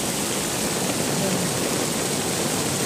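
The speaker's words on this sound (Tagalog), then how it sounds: "lakas na ulan kanina yung panal oh maagos ang tubig lumaragas ang tubig lakas" Heavy rain pours down as floodwater rushes through a street drain, a loud, steady broadband roar that stays constant throughout with no break.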